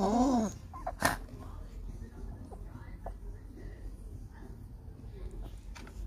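Congested small dog breathing noisily through its nose, a rough snuffling rasp rather than a growl, close and fairly faint, with brief movement sounds and no clear talk over it.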